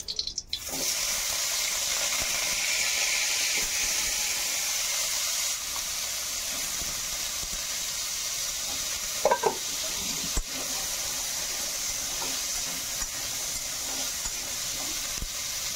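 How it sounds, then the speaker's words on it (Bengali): Potatoes fry steadily in hot oil for a dum aloo dish, a continuous close, even sizzle with occasional soft stirring scrapes and a couple of brief clanks. "এবার আর একটু তেল দিয়ে দেবো, আলু কড়া আরও একটু ভেজে নেবো।"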